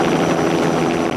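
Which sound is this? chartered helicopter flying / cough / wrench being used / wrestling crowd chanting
chartered helicopter flying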